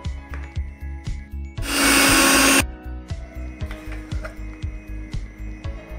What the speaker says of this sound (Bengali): এই মটর দানাগুলো আমার সেদ্ধ করা আছে, এগুলোকে আমি একটু মিক্সিতে পিষে নেব।